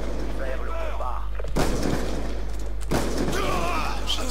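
In Black Ops 2, a sniper rifle fires two sharp, loud booms about a second and a half apart, over a voice and game sound.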